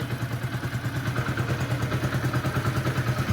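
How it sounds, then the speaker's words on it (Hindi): A motorcycle engine idles close by after an oil pump replacement, with a steady rhythmic low thumping pulse and some mechanical clatter, loud and alone without talk. "तो देख सकते हैं बाइक स्टार्ट है।"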